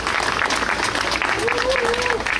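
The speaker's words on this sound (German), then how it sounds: "Mal kräftigen Applaus für John aus Bremen." Steady, close applause from a crowd cheering an 11-year-old boy from Bremen before a gate-opening countdown, with a voice talking over it and a brief whistle-like tone partway through.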